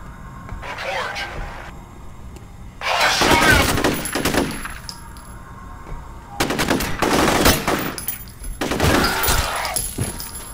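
Gunfire in the first-person shooter FEAR: several loud bursts of automatic fire and impacts arrive in separate volleys over a low background hum, with a voice talking between them.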